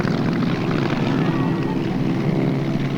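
A propeller airplane flies low over a 1977 Flying Circus Aerodrome airshow, a loud, continuous engine drone that stays steady throughout.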